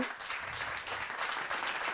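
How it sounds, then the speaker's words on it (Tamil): An audience at a Tamil devotional speech semifinal gives enthusiastic applause after a talk. Steady, even clapping fills the whole short stretch, moderately loud and close, with no voices over it. "ஒரு உற்சாகமான கைத்தட்டு"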